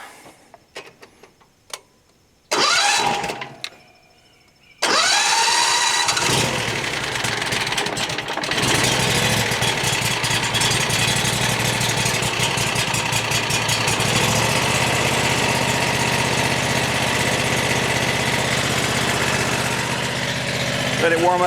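Small engine on a Frontier OS35 portable sawmill sputters through a few short start attempts, then catches and settles into a loud, steady idle on choke that runs continuously to the end.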